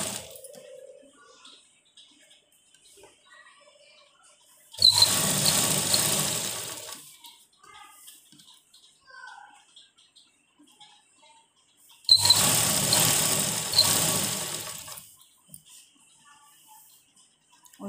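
A sewing machine stitches binding tape around the neck of a kurti in two separate runs of steady whirring, each a few seconds long, with quiet gaps between them.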